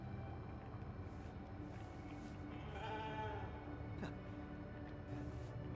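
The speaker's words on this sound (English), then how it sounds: "You can pet the sheep." A sheep bleats in the video game The Alters over a steady, dense background hum, the wavering call rising in the middle and fading against the constant ambient noise.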